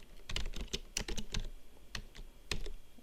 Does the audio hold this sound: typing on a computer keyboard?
yes